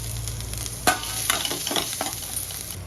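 Garlic, dried red chillies and cashews sauté in a pan for a Chettinad paneer gravy, giving a continuous sizzle broken by several scraping stirs close by.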